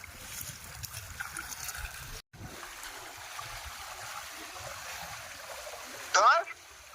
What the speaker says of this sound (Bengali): আর ঢেউ দেখতে পাচ্ছ অটোমেটিক ঢেউ সবসময় ঢেউ হয়